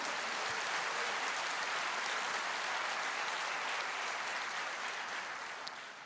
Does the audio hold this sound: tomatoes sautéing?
no